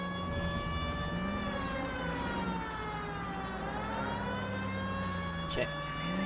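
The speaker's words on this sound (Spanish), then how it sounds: "Si pongo las sirenas se quitan." A police car siren wails in the video game L.A. Noire, a continuous loud tone that slowly sinks and rises in pitch throughout, with car and street sounds beneath.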